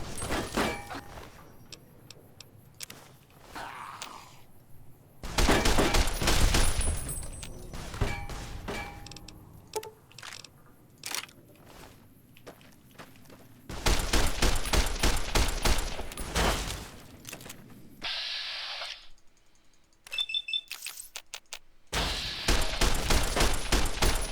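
Bursts of gunfire in Fallout: New Vegas, several loud volleys of rapid shots broken by quieter gaps with mechanical clicks and a door-like slide, close and dominant throughout.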